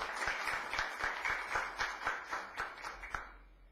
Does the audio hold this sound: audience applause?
yes